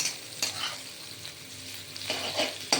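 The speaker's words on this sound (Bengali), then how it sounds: "পেঁয়াজটা ভাজা হবে পাঁচ ফোড়নটা ওই পেঁয়াজের সাথেই ভাজা হবে" Chopped onion fries with panch phoron spice mix in a pan, a close, continuous sizzle broken by several scraping stirs and a light clink of utensil on metal.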